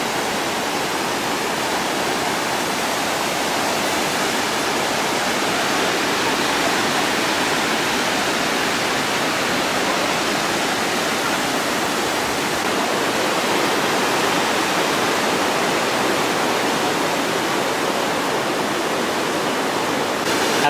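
Waterfall near a bridge in a Norwegian canyon, a loud, continuous broadband roar of falling water that stays even and unbroken, with no voices.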